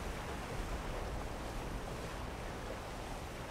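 A Black Mesa game environment where water is being drained: an unbroken, fairly close hiss and rush of flowing water, uniform in loudness from start to finish, alone.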